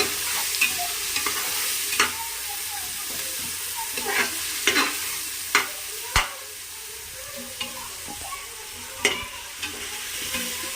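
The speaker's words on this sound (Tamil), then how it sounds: "புதினாவும் போட்டு நல்லா வதக்கி விடணும்" Mint leaves being stirred and sautéed in a pan for chicken biryani, a steady sizzle broken by intermittent scraping knocks of a spoon against the vessel, close and clear with no talking.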